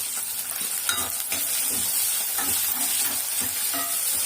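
Garlic and small onions sauté in sesame oil for a pirandai kuzhambu, producing a close, continuous hissing sizzle with a few soft stirring knocks and no voices.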